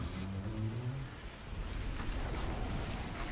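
Steady rain hiss with a low rumble in the video game Resident Evil 0 HD Remake, no voices, fairly quiet and continuous.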